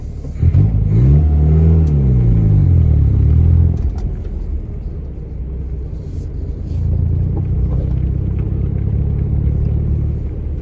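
A 1981 Dodge Challenger, a Japanese-built import, drives with its engine rumbling and revving up in pitch, then easing to a lower drone before climbing again, close and loud with no talk.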